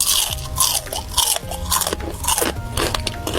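Loud, close crunching of crispy fried skin, repeated bites and chews with crackly snaps in an uneven rhythm, no talking.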